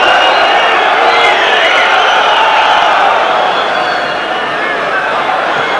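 Dense roar of a football stadium crowd in Lyon during a 1995-96 UEFA Cup match against Nottingham Forest, a loud, steady wash of voices that dips slightly late on, with commentary faintly mixed underneath.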